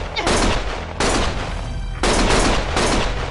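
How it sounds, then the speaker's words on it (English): Gunfire in the Lost Judgment video game comes as four loud, sustained bursts of shots, each about a second long and starting abruptly, close and dense with no gap between them. "Stop shooting!"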